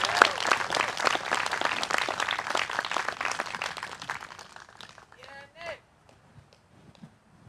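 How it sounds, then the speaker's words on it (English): A crowd at a Vote Common Good rally in Holland, Michigan, applauds speaker Rob Shank. Full, lively clapping thins and fades over several seconds into near quiet, with faint voices at the end. "Another round of applause for Rob."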